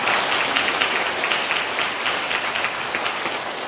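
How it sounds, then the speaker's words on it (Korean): Applause from a church audience at an autumn concert at Geumho Catholic Church, a full, steady round of clapping that gradually eases off slightly toward the end. "하나님께 다시 한번 하나님께 감사의 박수 보내시기 바랍니다"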